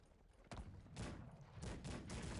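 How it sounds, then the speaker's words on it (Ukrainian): Repeated booming blasts of cannon fire in the strategy game Cossacks 3, several heavy shots overlapping in a rough, continuous volley. "Гармата йому настрілює"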